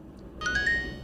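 A cellphone ringtone plays short bright electronic beeps in quick succession, starting abruptly and ringing clearly over a faint low background hum.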